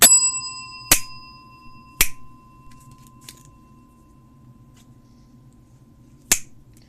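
A bell is rung several times, sharp bright strikes with ringing overtones spaced a second or more apart, separated by quiet pauses over a faint low hum.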